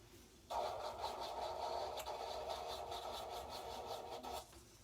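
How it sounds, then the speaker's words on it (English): Electric nail drill whirring on low speed while foil is applied over dip powder on nails, a faint, steady buzzing hum lasting about four seconds after starting up, alone without talk. "So again, I'm using my drill on low and slow."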